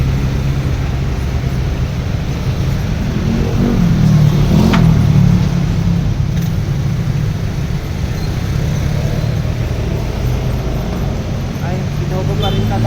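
Road traffic in Baguio rumbles steadily around a vehicle, with engine drone and passing cars forming a continuous low roar under quiet talk.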